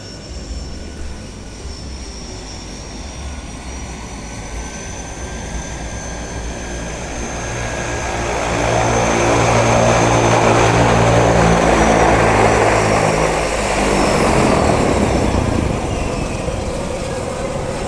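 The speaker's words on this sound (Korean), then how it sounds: "이게 감자밭에 지금 스프레이를 하는 겁니다" A propeller crop-spraying airplane flying very low over a potato field, its engine drone growing louder as it passes close overhead, then easing off as it moves away, with no talk.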